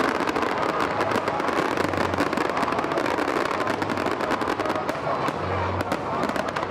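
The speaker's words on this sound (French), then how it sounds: "Les feux d'artifice ont ébloui le ciel au Palais de la Culture d'Abidjan-Treichville." New Year fireworks burst over the Palais de la Culture in Abidjan-Treichville, a dense, continuous roar of crackling explosions and pops filling the whole stretch at steady loud level.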